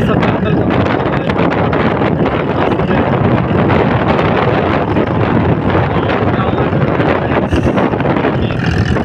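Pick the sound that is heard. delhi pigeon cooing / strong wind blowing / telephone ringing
strong wind blowing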